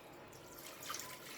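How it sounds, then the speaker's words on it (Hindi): Water poured into a bowl of cooled fermented rice for tanka torani, a soft continuous trickle and splash that swells near the end, faint and close, without talk. "अब इसमें हम पानी डालेंगे"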